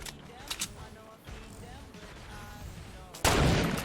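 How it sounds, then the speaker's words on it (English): Sniper rifle gunfire in Fortnite: sharp cracks and clicks of handling, then a loud, broad blast near the end, with game ambience underneath. "Loading my sniper."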